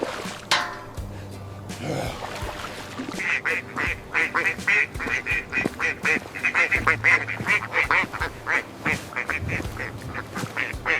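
A flock of egg-laying ducks on a farm, loud rhythmic quacking from many birds close by, building into a dense repeated chorus over background noise.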